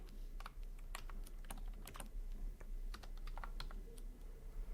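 Code is typed on a computer keyboard in quick, uneven bursts of soft key clicks, close but quiet over a low steady hum, with no voice.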